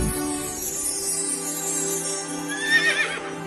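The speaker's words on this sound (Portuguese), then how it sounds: "E nela vi um anjo do Senhor montado num cavalo vermelho." A horse gives a loud, close whinny that rises and wavers over a steady droning background, lasting a few seconds.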